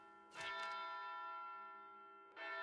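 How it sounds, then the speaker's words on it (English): Funeral chime bells ring in Wild Arms Alter Code F, two struck tolls about two seconds apart, each a bright metallic strike followed by a long, slowly fading ringing tone in an otherwise quiet space. "Those are funeral chimes."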